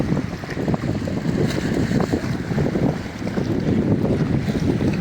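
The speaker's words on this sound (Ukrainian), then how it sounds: "Вітерець сьогодні чималенький." Strong wind on the Danish seashore buffeting the microphone in a continuous low roar, with waves sloshing faintly in the background and no one speaking.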